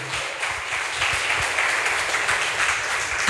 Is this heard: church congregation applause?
yes